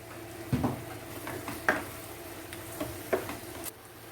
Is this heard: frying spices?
yes